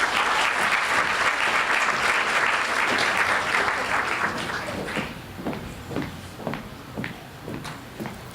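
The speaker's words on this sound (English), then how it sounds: "let's give Kayla a quick round of applause" An audience at a PechaKucha presentation event applauds in a dense, sustained burst that fades into scattered individual claps toward the end, with no speech.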